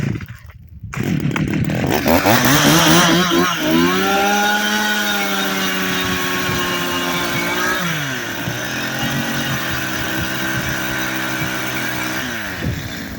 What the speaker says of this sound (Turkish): Şimdi sıra ağaç motoruyla arkadaşlar.